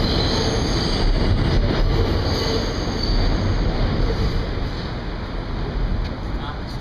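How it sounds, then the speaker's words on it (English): A New York City subway train rumbles steadily through an underground station, a loud continuous roar with faint wheel squeal, no voices standing out. "Just one level below the streets is the subway station."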